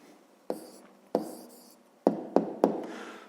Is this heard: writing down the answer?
yes